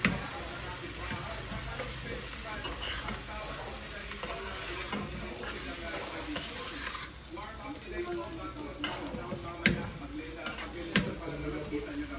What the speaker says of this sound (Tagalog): Haluin na natin ito.